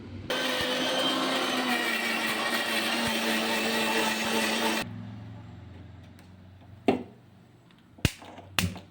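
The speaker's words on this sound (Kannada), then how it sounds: "ಈಗ ಮಿಕ್ಸಿಗೆ ಹಾಕಿ ರುಬ್ಬಬೇಕು" A kitchen mixer grinder whirs loudly and steadily as it grinds spices for egg sambar, then cuts off after about five seconds, leaving a low hum and a few sharp clatters.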